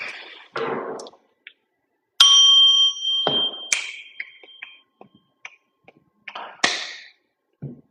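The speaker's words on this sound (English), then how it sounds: "I'm gonna hit the bell. Watch your ears." A bell is struck with a sharp metallic ding and a ringing tone that sustains for about a second, mixed with brief taps and clicks around it, close and fairly loud.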